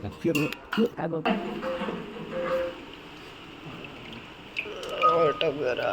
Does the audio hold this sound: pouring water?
yes